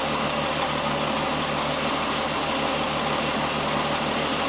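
A Volkswagen Jetta engine idles steadily while warming up, a continuous low mechanical hum with faint vibration, close and even throughout with no talk.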